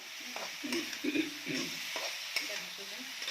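Fish and eggplant curry being stirred in a pan, with quiet scraping strokes and soft thuds repeating over a faint steady sizzle, close and low in level.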